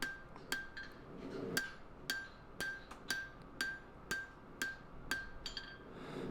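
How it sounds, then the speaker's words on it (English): A straight peen hammer strikes a Damascus steel San Mai Bowie knife blade being forged from saw blade and 80CrV steel, about a dozen sharp ringing metallic blows in a steady rhythm, close and clear without speech. "I'm using my straight peen hammer to forge in wavy lines"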